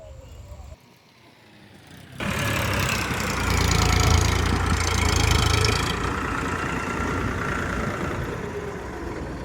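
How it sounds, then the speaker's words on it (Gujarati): Tractor working at a village pond where pits are being filled with soil: after a quieter opening, a loud engine rumble rises abruptly and holds steady, running close for the rest of the stretch. "પરવીનભાઈ લઈ આવી જાય ટ્રેક્ટર લઈને ખાડા પૂરવા માટે"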